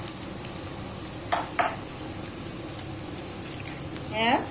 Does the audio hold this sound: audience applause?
no